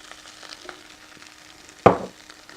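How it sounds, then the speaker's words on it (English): A curry base fries in oil in a pan for a soupy rasa gravy, with a low sizzle and one sudden loud hiss as something hits the hot oil, fading quickly. "I'm going to fry it."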